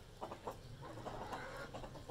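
Mixed desi and aseel hens cluck in a backyard coop, giving a run of short, soft, close clucks in irregular bursts over a faint background hum.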